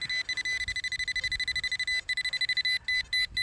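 A metal detector signals a find in a WW1 militaria hunt with a fast, rhythmic series of loud electronic beeps, pulsing steadily with a few brief gaps near the end.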